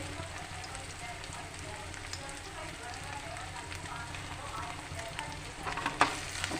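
Ginger stirred into spring onion frying in a pan, a continuous close sizzle under a voice, with a few louder scrapes of the spoon toward the end.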